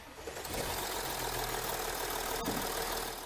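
A warm 3-litre TDI diesel car engine idles with a steady, rough, broadband rumble and constant clatter, close and loud, with no speech.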